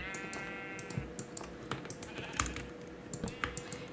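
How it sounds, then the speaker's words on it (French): Rapid keyboard typing clicks throughout, with several short bleating calls from sheep in Minecraft rising above them, one near the start and more later. "Oh, let's go. Il y a les moutons ici."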